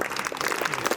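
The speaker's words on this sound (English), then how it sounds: "Please give her a huge round of applause." Applause from an audience at a school investiture ceremony, a steady dense patter of clapping lasting about a second at moderate level.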